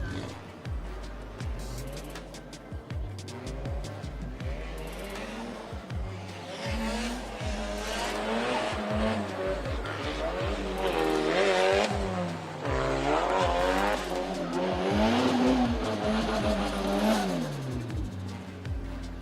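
A drift car at a D1GP Malaysia round revving hard and skidding, with rising and falling engine notes from throttle feathering and tire squeal, loud and continuous while a commentator talks over it.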